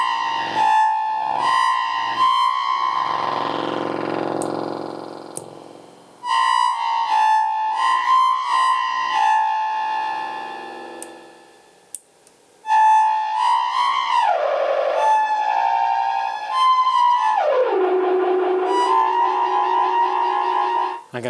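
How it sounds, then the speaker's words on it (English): Befaco Crush Delay v3 eurorack module with its crunch effect engaged: gritty, distorted, bit-crushed tones with echoing repeats and sweeping pitch glides, sounding continuously apart from a few brief dropouts. "Now we'll throw in some crunch."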